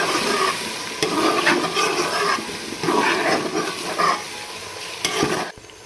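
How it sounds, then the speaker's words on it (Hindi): Garlic, ginger and green chili paste frying with chicken in a pan: a loud sizzle with scraping stirring strokes and a few sharp clatters, sustained for several seconds before cutting off near the end. "लहसुन अदरक के पेस्ट को हमने भून लिया है।"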